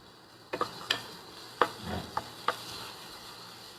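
Herb and vegetable mixture cooking in a pan, giving a faint steady sizzle broken by several sharp utensil clinks and scrapes against the pan, with no voices.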